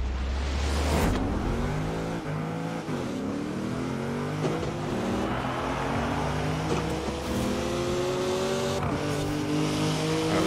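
A Porsche Carrera races in Forza Horizon 4, its engine loud and close, revving up through gears with repeated rising pitch sweeps and brief shift breaks, with faint tire squeal and no talking.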